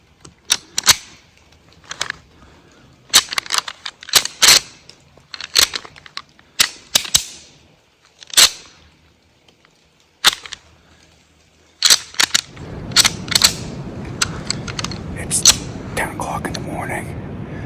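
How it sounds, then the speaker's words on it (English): Antlers rattled together by a hunter in the Maine woods at first legal light during deer season, giving sharp, irregular clacking bursts spaced over several seconds, then a denser run of clattering and grinding near the end, close and fairly loud. "I'm gonna try to rattle a little bit"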